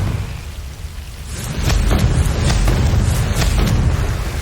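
A Confringo spell explosion in Hogwarts Legacy, a low rumble that bursts into a loud boom, followed by a series of sharp crackling impacts over continuing rumble.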